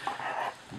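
A dog lets out a brief high whine close by, followed by a softer low whimper.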